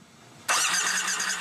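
A Harley-Davidson motorcycle engine fires up abruptly after a brief quiet hum, then settles straight into a loud, steady, rumbling run with no one speaking.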